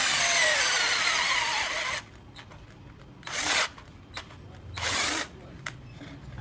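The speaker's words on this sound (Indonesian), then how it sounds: "saya pakai mata bor kayu yang biasa ukuran 10 mili. Untuk pengeboran pertama agak nyendat dikit ya" A cheap Decker cordless drill bores into wood with a 10 mm wood bit, running loud and steady at first, then stopping and giving a few short trigger bursts as it struggles through.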